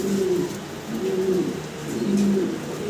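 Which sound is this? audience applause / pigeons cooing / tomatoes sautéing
pigeons cooing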